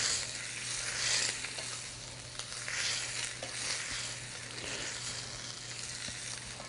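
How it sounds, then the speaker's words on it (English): Filet mignon steak sears in a hot pan, giving a steady, close hiss and crackle that holds evenly throughout with faint stirring movements and no talk. "And we have a nice little sear going on."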